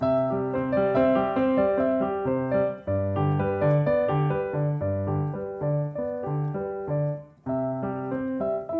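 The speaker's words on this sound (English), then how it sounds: "So if I play without sustain pedal" Piano played without the sustain pedal, a steady improvised passage of distinct, clipped chords and melody notes that stop short instead of ringing, close and moderately loud, no voices.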